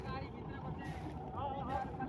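A combine harvester runs in a farm field where a tractor hauling a maize trolley is stuck, giving a steady, close engine drone mixed with wind noise while people talk nearby.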